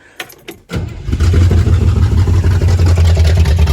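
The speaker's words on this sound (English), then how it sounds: "So now we can try and start it here with our very, very small mufflers" A swapped V8 engine fitted with very small mufflers cranks a few times, then fires and settles into a loud, steady rumbling idle close by.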